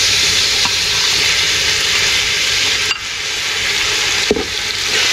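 Onions and tomatoes fry in a pot for chicken feet yakhni pulao, giving a loud, steady sizzle with faint stirring scrapes and a couple of sharper clinks.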